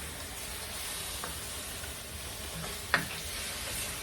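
Three pounds of deveined, shelled shrimp sizzle in a hot pan for Kung Pao shrimp, giving a steady close hiss while being stirred, with one sharp clink of utensil on pan partway through.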